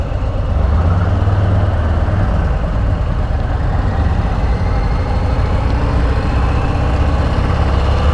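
A Harley-Davidson Sport Glide cruiser motorcycle engine runs smoothly with a steady low rumble, holding an even note without revving up or down, close and loud.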